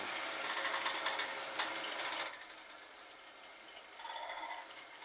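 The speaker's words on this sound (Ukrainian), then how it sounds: "Репить як на підводній лодці. І отак прожимає і зменшує його в діаметрі." A crimping tool works a metal chimney pipe to narrow its diameter for a workshop boiler, giving a close, steady ratcheting mechanical rattle that drops in level midway and then swells again briefly.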